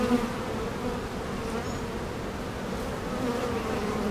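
Honeybees humming steadily around an open hive during a mid-June inspection, a dense continuous drone close by with faint higher buzz passes, no voices.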